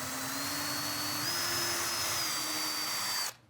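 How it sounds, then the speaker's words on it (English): Power drill pre-drilling screw holes in a wooden board while building a vertical garden planting wall: a steady, close, high-pitched whine running for about three seconds at constant speed, then stopping abruptly. "Before you put the screws in, you need to pre-drill your holes, otherwise your wood is going to split."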